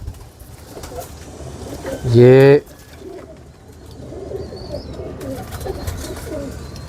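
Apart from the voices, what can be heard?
Teddy pigeons cooing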